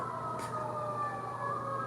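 Fire truck sirens wail steadily in the distance, a continuous rising and falling tone that holds for the whole stretch over a constant low hum, with one brief soft noise burst early on.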